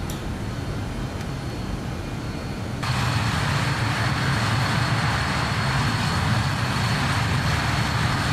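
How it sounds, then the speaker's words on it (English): Landing gear of a BAe 146 retracting in a flight simulator game, a steady broadband engine roar that steps up louder partway through and holds, with no talk. "Gears going up."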